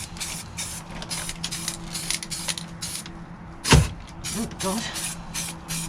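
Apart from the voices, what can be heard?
spray painting coats under an Austin Allegro bonnet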